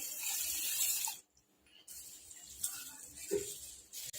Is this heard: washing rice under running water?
yes